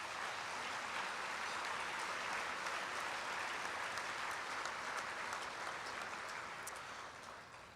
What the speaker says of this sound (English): Please join me in a round of applause for all of those government officials